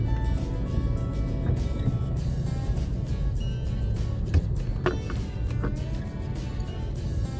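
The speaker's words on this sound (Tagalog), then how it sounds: "So pagpasok niyo pala dito, traffic, dami pala mga jeep." Congested street traffic crowded with jeepneys on Tandang Sora Avenue in Quezon City, a constant low rumble of idling and creeping engines, with occasional louder passing vehicles nearby.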